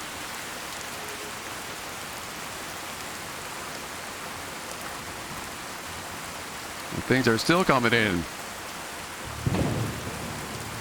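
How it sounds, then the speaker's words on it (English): Steady rain and thunderstorm in the video game Fallout 4, a constant broadband hiss of rainfall with a rumble of thunder near the end, while a voice talks briefly over it. "Unfortunately, the rain is kind of ruining the moment a little bit"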